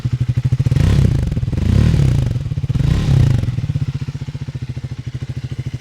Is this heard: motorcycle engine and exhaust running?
yes